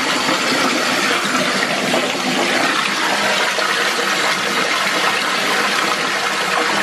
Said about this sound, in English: So filling the bath right now.